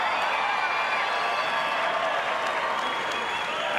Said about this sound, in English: let's have a round of applause for these 2 warriors